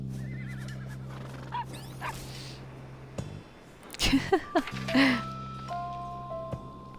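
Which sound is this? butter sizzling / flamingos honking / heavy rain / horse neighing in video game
horse neighing in video game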